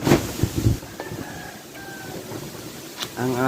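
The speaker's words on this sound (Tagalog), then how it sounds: "Tignan nyo mga kapobre, ang lakas ng hangin." Strong wind gusting around a house with a tarpaulin roof, a steady rushing roar with louder buffets at the start and end, close to the microphone and with no talk.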